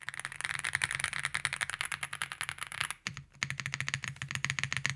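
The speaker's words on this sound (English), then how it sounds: "I'll do a typing comparison" Rapid, even typing on a Womier SK65 mechanical keyboard, crisp close clicks in a steady rhythm with one brief pause midway.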